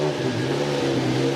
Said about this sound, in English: That startup is nothing too crazy, but this idle is way better.